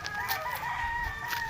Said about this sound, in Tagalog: Ang isa pang manok.